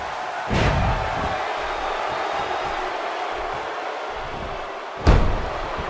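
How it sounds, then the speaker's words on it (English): Two heavy slams of a wrestler crashing into the turnbuckle in the WWE 2K16 wrestling game, about four and a half seconds apart, each a sharp booming impact over a constant arena crowd murmur. "And the turnbuckle does the damage."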